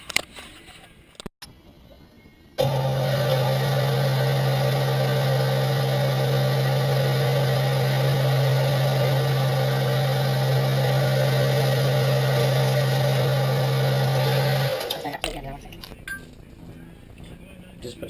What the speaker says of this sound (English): I machine down the diameter a bit and give it some facing cuts